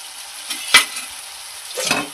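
A potato, broccoli and egg curry being stirred and fried in a pan: a quiet sizzle with a sharp scrape of the spatula near the start and a longer scraping stir toward the end.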